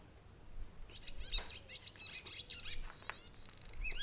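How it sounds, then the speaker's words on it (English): A swallow calling as it circles around empty farm barns at Trewoofe Wartha Farm. Quick, high twittering chirps come in bursts over a faint low rumble. "The swallow calls out."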